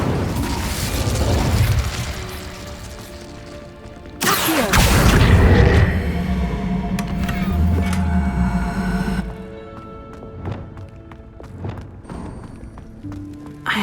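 A fire spell cast in the Hogwarts Legacy video game bursts out with a loud whooshing roar, swelling for several seconds over a busy game soundscape before fading to quieter clatter.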